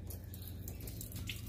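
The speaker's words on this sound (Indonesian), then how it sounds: "Hidupkan keran sedikit ya guys" A kitchen tap left running at a low flow, a soft steady trickle and light splashing into a sink, faint and close.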